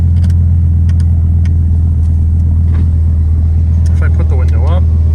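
Heard from inside the cabin, a 2008 Dodge Viper SRT10 V10 engine idles with a deep, steady low rumble, loud and continuous, while someone talks over it.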